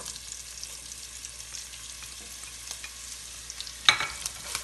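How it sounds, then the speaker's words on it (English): Onions and sage hit a pan with browned sausage for a butternut squash risotto, giving a soft, steady frying hiss with light stirring scrapes and a sharp clatter near the end, close and without talk. "Now what I'm going to do is I'm just going to add in those onions and that sage"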